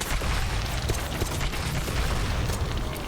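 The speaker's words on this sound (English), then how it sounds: "that was airstrike, explosion" Airstrike explosions in the Night of the Dead video game, a dense, continuous wall of booming blasts that stays loud throughout with no pauses.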